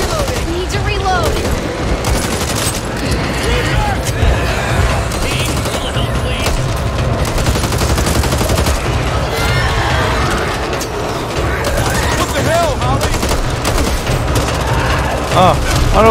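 Rapid gunfire in the co-op zombie shooter Back 4 Blood, dense automatic bursts and shots running loud and continuous through the whole stretch amid chaotic combat noise, with players shouting over it.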